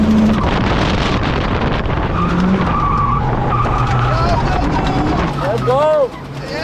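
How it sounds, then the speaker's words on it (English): Tyres on a Mercedes screech loudly and continuously while it drifts, the squeal wavering in pitch over roaring engine and wind noise, with people talking and shouting over it. "Tyres sounds horrendous."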